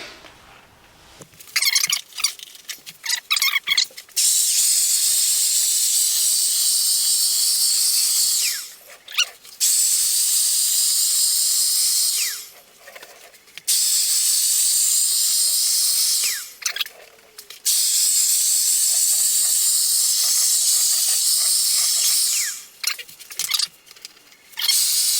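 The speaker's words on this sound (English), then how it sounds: "I'm going to use the old Wagner paint sprayer that I bought when I did my kitchen" An old Wagner paint sprayer coats a cat house for a doorstep with paint, giving long, steady, hissing bursts broken by short pauses as the trigger is released and pressed again.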